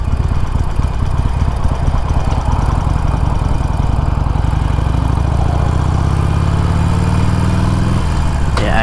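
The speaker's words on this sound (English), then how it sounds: "It's a nice thing about riding a motorcycle." A Harley-Davidson Sportster Iron motorcycle rumbles steadily while riding through traffic, its engine loud and continuous with a low throbbing drone that shifts pitch near the end as the revs change.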